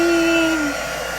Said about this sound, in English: I'm using my new heat gun. It's by Celebrate It.